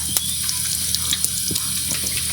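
Water runs steadily from a tap while winter squash are washed, a soft continuous gush broken by small clicks and knocks from handling, with no voices.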